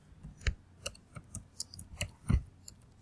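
Keys on a computer keyboard are pressed in a short, uneven run of sharp, close clicks, roughly a dozen taps over a few seconds with no talking.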